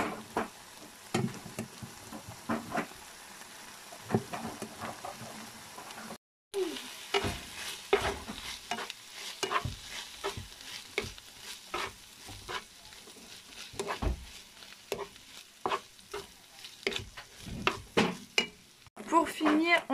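Rice stir-fried with soy sauce in a pan sizzles steadily while a utensil scrapes and stirs in repeated close strokes.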